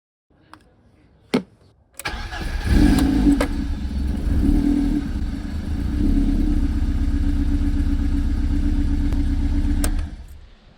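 A BMW E30 318is with the M42 four-cylinder engine cranks briefly, catches and settles into a steady, smooth idle close by for several seconds before cutting off.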